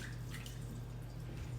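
Water from a drained can of mandarin oranges pours and trickles into a sink, a continuous wet splashing with a low hum underneath.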